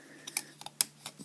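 The ratchet joint on the arm of a Transformers Robots in Disguise 2015 Deluxe Warrior Grimlock toy gives several sharp, close, soft plastic clicks in an uneven rhythm, with no talking.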